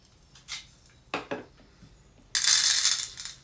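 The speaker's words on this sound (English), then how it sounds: "So I'm going to cut one open to show you what's inside." A carbon fibre dummy shotgun cartridge is cut open, with a few sharp knocks and clicks before a loud burst of gritty, rattling pouring as sand and shot spill out close by.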